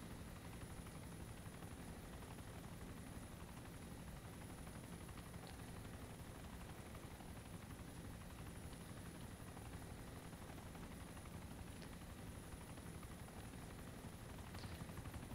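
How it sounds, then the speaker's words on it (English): Chinook helicopter in the video game ARMA 2 DayZ, descending slowly; a steady, loud rotor drone with a dense low rumble holds throughout, with no voices. "even though the Chinook does come down pretty slow anyway"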